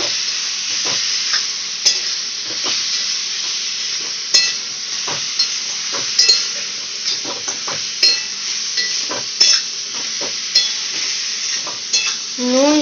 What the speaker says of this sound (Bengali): ভেজে রাখা চিংড়ি মাছ দিয়ে দেওয়া হচ্ছে কড়াইতে আলু আর চিংড়ি মাছ মশলার সাথে ভালো করে কষিয়ে নিচ্ছে